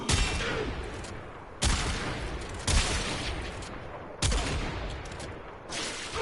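Quartakk rifle firing in the game Warframe, loud bursts of rapid gunfire in four clustered volleys with brief gaps, close and dense.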